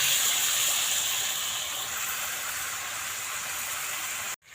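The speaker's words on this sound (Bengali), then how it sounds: "এখন আমি মাছগুলো ভেজে নিই।" Boal fish sizzling in hot oil with salt and turmeric in a wok, a loud steady hiss of frying that holds evenly and then cuts off abruptly at the end.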